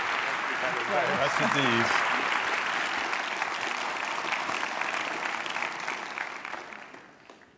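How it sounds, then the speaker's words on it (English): Conference audience at the RCGP annual conference applauding the Health Secretary, sustained dense clapping that tapers off toward the end, with a brief spoken thanks at the start. "thank you for a professional and respectful round of applause"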